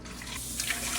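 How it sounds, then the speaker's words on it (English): Water pours steadily into a pressure canner being filled for canning chicken broth, a continuous close splashing rush with no talk. "You're gonna fill it up with 3 quart-sized jars of water."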